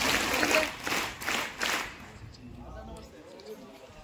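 Audience applause at a school felicitation ceremony, a dense crowd clapping that swells through the first two seconds, then thins into scattered claps and room noise.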